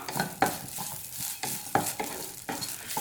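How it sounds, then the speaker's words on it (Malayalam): A spoon stirs green chili and black pepper in a pan, giving a run of sharp scraping strokes at an uneven rhythm over a soft sizzle, close and moderately loud, with no talking. "ഇനി ഇതെല്ലാം കൂടി നന്നായിട്ടൊന്ന് മിക്സ് ചെയ്തെടുക്കാം"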